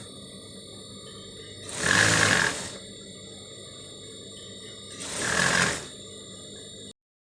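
A sewing machine stitching a blouse dart runs in two whirring bursts of about a second each, separated by a pause, over a steady background hum.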